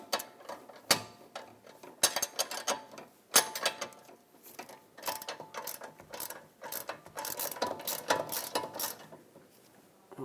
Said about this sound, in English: 17mm wrench on the nut